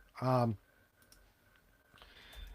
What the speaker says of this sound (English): Okay, here we go. Typing to Slack.